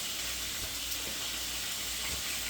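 Food frying in a home kitchen gives a steady, faint sizzling hiss that runs unbroken throughout, with a low background hum and no voices.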